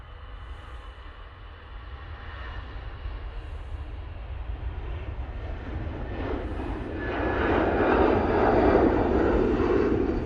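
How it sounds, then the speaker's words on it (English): A Lufthansa Airbus A320ceo jet departs for Munich, its engine rumble building steadily and peaking loud in the final seconds as it climbs away. "Lufthansa now going off to Munich using their 320 CEO."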